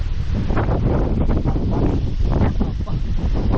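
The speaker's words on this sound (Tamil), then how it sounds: "காற்று அடிக்கிறது உங்களுக்கு அந்த விண்டோட சவுண்டு கேட்கும்னு நினைக்கிறேன்" Steady wind blowing outdoors near the Flame Towers in Baku, a loud continuous broadband rush with gusty swells filling the whole clip, no talk over it.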